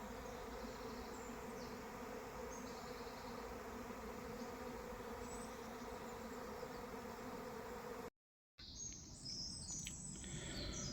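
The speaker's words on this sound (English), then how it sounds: "Got a bit of a bee swarm going on," A bee swarm buzzing outdoors near a Land Rover Defender TD5 130 under repair, a faint continuous insect drone with bird chirps mixed in, cut by a brief gap near the end.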